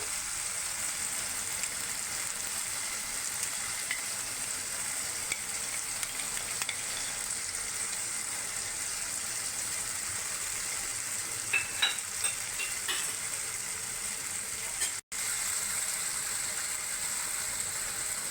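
Ginger and green chili paste fries with turmeric in a pan, a steady loud sizzle running throughout with occasional stirring scrapes and clinks, and no talking.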